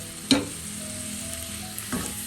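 Chopped tomato going into a sizzling prawn and small-onion masala in a pan: a steady close sizzle with a sharp clatter at the start and another scrape toward the end.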